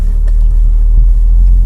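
A Toyota Altezza's exhaust gives a deep, steady, smooth low rumble while driving, fairly quiet and continuous with no talk over it.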